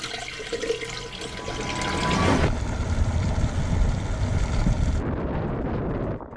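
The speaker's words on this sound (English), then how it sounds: "can you just go open the toilet so we can pump a bunch of fresh water through this holding tank?" Fresh water rushes through a boat's toilet and holding tank under a steady pump, a loud, continuous watery roar that swells partway through and then cuts to a thinner gush at the end.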